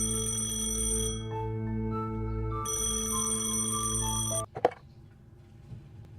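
A phone rings in the video game Penelope Pendrick and the Art of Deceit, two bright electronic ringing bursts with a short gap, loud and close, cut off by a click as it is answered.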